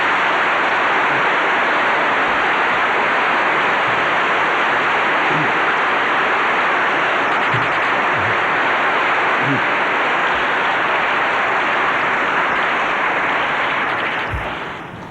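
A debate audience applauds after a speech at a 1982 creation versus evolution debate, with dense, steady clapping that continues for many seconds before starting to fade at the end.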